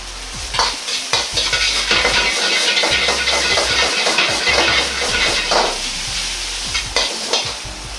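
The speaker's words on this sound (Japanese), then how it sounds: "生姜とチャーシューを入れます。" Ginger and char siu stir-fried in a pan for fried rice, a loud steady sizzle with rapid scraping and tossing of a spatula against the pan throughout.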